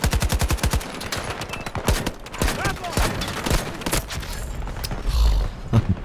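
AK rifle in Battlefield 2042 firing in quick bursts of sharp, loud shots, a tight volley at the start then scattered taps and more bursts, with game noise and other gunfire mixed in.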